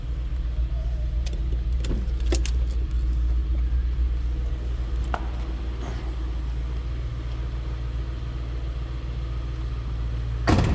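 A 2004 Ford Thunderbird Pacific Coast Edition convertible idles steadily with a low, rumbling exhaust, constant and close, with a few faint clicks and no voices.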